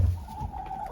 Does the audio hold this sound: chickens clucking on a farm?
yes